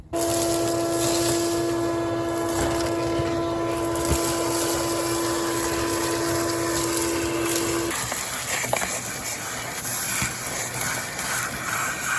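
A vacuum cleaner runs continuously and loudly with a steady whine in the engine bay of an abandoned Ford F-150, its pitch shifting as the nozzle moves and sucks at surfaces.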